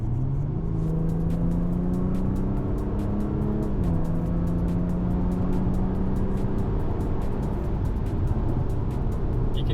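C8 Audi A7 3.0 TDI diesel in sport mode accelerating hard, a loud steady engine drone heard from the cabin, rising in pitch through the revs with a distinct gearshift dip partway through.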